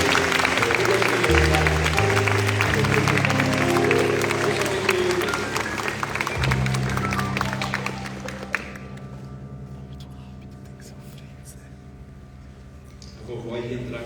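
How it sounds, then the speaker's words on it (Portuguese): Wedding guests applauding the couple, a crowd clapping and cheering over loud music with speech mixed in, fading toward the end. "Pode dar um beijo do Érico enquanto a gente aplaude vocês."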